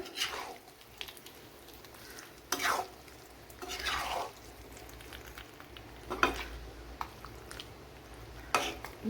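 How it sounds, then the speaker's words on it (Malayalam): Chicken thoran with grated coconut and mustard seeds stirred in a pan, with scraping spatula strokes at irregular intervals over a low steady sizzle, close and moderately loud. "ഇതൊന്ന് ഇളക്കി യോജിപ്പിച്ച് കൊടുക്കുക"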